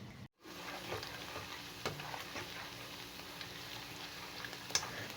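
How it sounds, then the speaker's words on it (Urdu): Onions fry in a pan with a soft, continuous sizzle and crackle, plus occasional light taps and stirring scrapes, fairly quiet and close. "کھانا پکاتے ہوئے یہ شوں شاں کی جو آوازیں ہیں نا، یہ مجھے بڑی اچھی لگتی ہیں۔"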